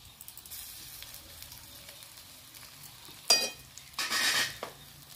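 Ginger paste added to onion and garlic already fried red in a pan, cooking a Bengali China duck dish: a low steady sizzle, then two loud bursts of hissing frying as the paste hits the hot oil and gets stirred.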